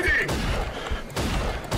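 Gunfire in the video game Rage: two broad, loud bursts of shots, one at the start and one about two-thirds through, with a rumbling tail between them. Speech-like game sound runs underneath.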